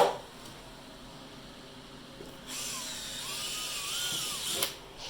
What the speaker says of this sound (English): let's get our marker light hole drilled